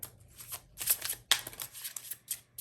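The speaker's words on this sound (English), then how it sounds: "we're gonna shuffle them all first" Tarot cards are shuffled by hand close up, producing quick papery riffles and flicks in uneven bursts, with a sharp snap partway through; no talking.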